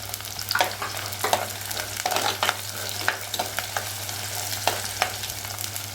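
Shallots and garlic sauté in oil for a vanjaram fish curry, with green chillies and curry leaves added, giving a continuous sizzle broken by regular scraping stirs.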